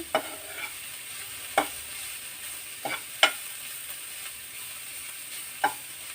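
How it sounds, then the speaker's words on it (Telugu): Beetroot fry being stirred in a pan over high heat, a soft steady sizzle with five or six sharp clinks of the spatula spread irregularly, close but fairly quiet, no voices. "ఇది హైలోనే ఒక ఐదు నిమిషాలు దగ్గరుండి వేయించుకుంటే సరిపడుతుంది"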